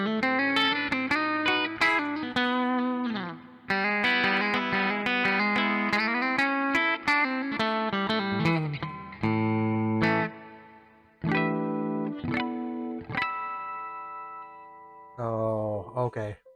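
A Tease SBH-E electric guitar with an aggressive pickup plays clean tones, ringing chords and single notes in phrases broken by short pauses, plucked close and bright.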